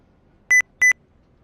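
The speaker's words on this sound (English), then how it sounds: "that beep is loud" Two loud, clean electronic beeps, each about a tenth of a second long and close together, ring out over near silence during a NASCAR sim racing session.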